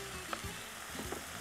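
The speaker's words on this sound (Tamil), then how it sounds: "மிளகாத்தூள் ஒரு நல்லா மிக்ஸ் பண்ணிக்கலாம்" Chicken masala with onion, tomato and chilli powder being stirred in a pan, giving a brief, fairly faint sizzle with a couple of soft scraping strokes.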